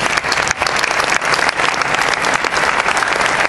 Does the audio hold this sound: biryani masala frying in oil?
no